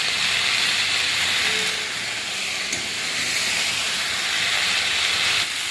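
Spiced prawn and taro curry hissing and sizzling loudly in a pan, a dense continuous steam-like hiss with a faint scrape partway through.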